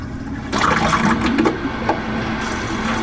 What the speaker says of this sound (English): got a leak here